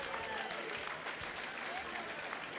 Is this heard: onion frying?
no